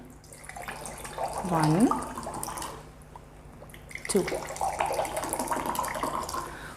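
RO tap water poured from a home purifier into two glasses, with two short splashy pours, the second longer, while someone talks over them.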